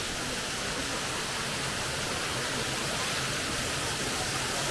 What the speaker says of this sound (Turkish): Şelaleye geldik.